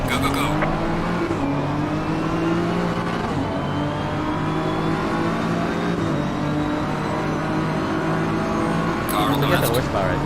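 BMW M4 GT3 race car with an inline-six twin-turbo engine in a GT3 sim racing game, a steady loud engine drone held for the whole stretch with rising pitch sweeps as it accelerates, over continuous game sound.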